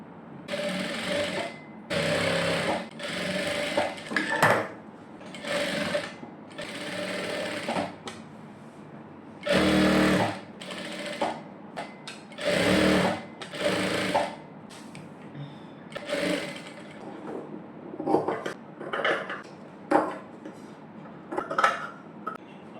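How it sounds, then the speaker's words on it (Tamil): A sewing machine runs in repeated short bursts of rapid stitching on a princess cut blouse, stopping and starting with clicks and small handling sounds in between, close and clear. "இப்போ இப்படி வச்சு மேலே தையல் போட்டுக்கலாம்"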